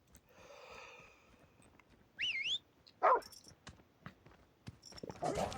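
A dog barks in a shooter video game, with a few short sharp bursts scattered among whistling, gear clatter and game effects, moderately loud with gaps of quiet between.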